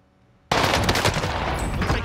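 Sudden loud gunfire erupts in Call of Duty Warzone, a dense rapid stream of automatic shots after a brief near-silence, continuing without pause.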